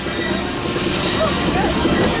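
The Universal Studios Hollywood studio tour tram rolling along, a steady loud rumble with faint clatter, while people talk and call out over it.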